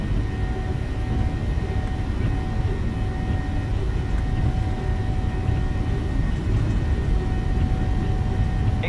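Twin jet engines of a Boeing 737-8 spooling at takeoff thrust in a flight simulator, a steady, loud, dense low roar with a faint whine above, continuous throughout.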